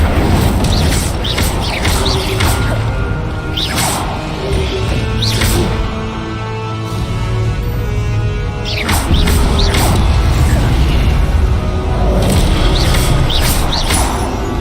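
The Incendio fire spell from Hogwarts Legacy, cast repeatedly with booming whooshes of flame and crashing impacts, a dense and loud game soundscape with bursts recurring every few seconds.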